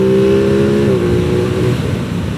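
Aprilia RS sports motorcycle engine while riding, a loud steady drone with a falling tone as the rider eases off, heard close and continuous under wind rush.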